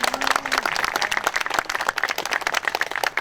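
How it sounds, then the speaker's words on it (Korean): An audience at a May 18 memorial ceremony claps for an introduced guest. The applause is brisk and dense, stays fairly close and full throughout, and no voice is heard over it. "박수 부탁드립니다."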